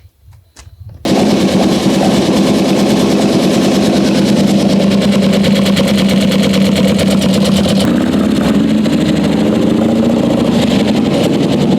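A motorcycle engine starts and runs steadily for testing in a garage, a loud continuous rumbling idle with a slight change in tone near the end.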